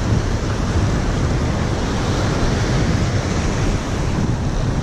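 Ocean surf breaking on a shallow shore, a steady, loud, continuous roar of waves and rushing water with wind buffeting the microphone throughout, no voices.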